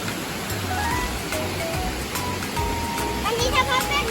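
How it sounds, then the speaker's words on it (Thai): Steady rain falls beside a waterfall, a dense continuous wash of water noise that stays even and loud throughout. "กเสียงฝนตก"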